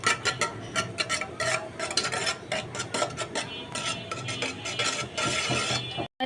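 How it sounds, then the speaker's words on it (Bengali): Egg whites are beaten briskly in a bowl for a Bengali malai cake, with rapid, continuous scraping and clinking whisk strokes, close and steady, briefly cutting out near the end. "তো এখন আমি যে বাকি অংশটা ছিল সেটাকে আমি খুব ভালোভাবে বিট করে নেব।"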